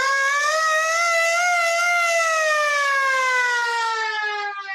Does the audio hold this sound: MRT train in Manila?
no